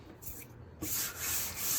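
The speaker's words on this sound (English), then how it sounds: "Then I'm going to hit this with some sandpaper to get all the" Sandpaper rubs over metal to smooth rough spots and nicks, two or three short, soft scratchy strokes close by, with no voices.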